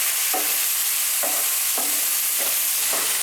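Onion and chillies frying in oil left over from frying fish, with Malvani masala: a constant loud hiss of frying, punctuated by five or six evenly spaced scraping strokes of stirring. No voices.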